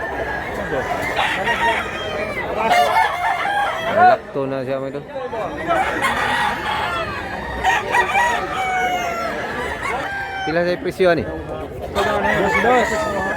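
White rooster crowing repeatedly at a market in Mantalungon, Cebu, loud and close amid clucking fowl, while people chatter and talk throughout.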